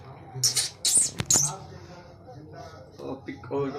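A boy imitates a rabbit with several short, high squeaky bursts close to the microphone, followed by softer vocal sounds.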